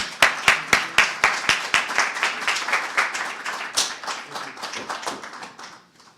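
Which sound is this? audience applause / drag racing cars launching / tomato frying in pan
audience applause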